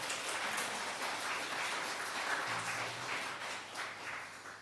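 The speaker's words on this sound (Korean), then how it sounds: "우리 옆에 있는 분들 박수로 환영했으면 좋겠습니다" A congregation at a Sunday worship service at Darmstadt Central Church claps in welcome, a soft, steady wash of many hands heard from a distance without any talk.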